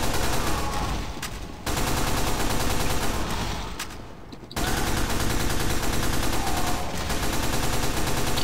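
Sustained rapid automatic gunfire from a fast-firing weapon in a video game, a dense continuous stream of shots with two brief dips, loud and close with no talking.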